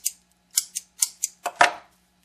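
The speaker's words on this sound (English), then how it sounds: "Pull that thread off of the end and trim it off" Scissors snip thread from a hand-tied shrimp fly: five or six short, crisp cuts, close and fairly loud, each separated by a brief pause, with a final heavier snip.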